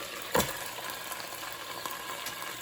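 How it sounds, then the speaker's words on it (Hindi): Keema minced meat frying with spices in a pan: a steady soft sizzle throughout, with one brief louder stirring scrape near the start, no talking. "उसमें तमाम मसाले डाल के उसको भून लें 2 से 3 मिनट।"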